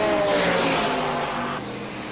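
SRO GT race cars racing at Oulton Park, several engines roaring close together at high revs, one passing with a falling pitch before the sound settles into a steady drone.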